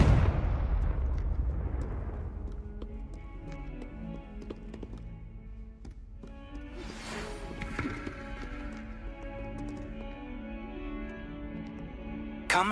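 A Confringo spell bursts in Hogwarts Legacy with a loud opening blast that decays into scattered crackles, taps and impacts, then a second flurry of bright hits midway.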